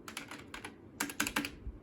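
Typing on a beefy AST rubber dome keyboard at a Compaq ProLinea 4/33, quiet close-up bursts of rapid keystrokes separated by short pauses, with a slightly mechanical clack.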